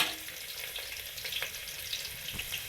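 Chopped onion, garlic, coriander and tomato fry in a pan with a steady, moderately quiet sizzle and light crackles, close and without voices.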